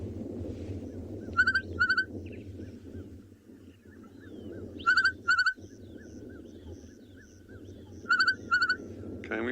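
Recorded bird call played back during a sunset safari: three paired bursts of bright, sharp calls at even intervals over a steady low background hum, fairly clear and distinct.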